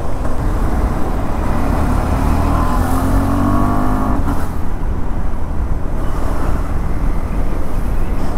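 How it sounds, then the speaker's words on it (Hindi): Dense road traffic while on the move, a steady loud roar of car engines and tyres with vehicles accelerating and passing close by, no talk. "अरे यार इतना ट्रैफिक."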